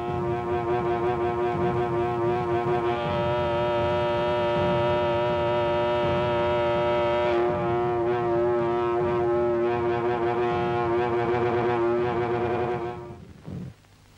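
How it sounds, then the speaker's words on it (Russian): A ship's horn on the 1941 tanker Derbent sounds in one long, loud, steady blast, holding for about thirteen seconds with a slight shift midway before cutting off abruptly. "Я гудок починил."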